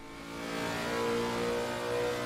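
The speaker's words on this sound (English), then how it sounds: "You can hear the engine whirring away in the Lexus." A Lexus GT3 racing engine in a video game at Laguna Seca drones and whirs steadily at high revs, a continuous mechanical hum with layered harmonic tones and no voices.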